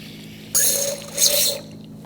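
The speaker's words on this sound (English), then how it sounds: "We're going to use a fluid extractor to remove all of the fluid out of the master cylinder." A fluid extractor sucks brake fluid from the master cylinder of a 2005-2015 Toyota Tacoma in two short, close, gurgling slurps of liquid.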